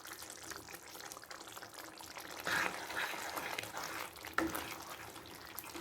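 Water splashes and pours into a pot of simmering Tamil vathal kuzhambu curry amid constant bubbling and clatter, with a couple of brief louder gushes partway through.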